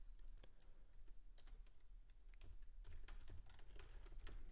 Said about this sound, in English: if you hear typing, that is just me making alerts in the chat room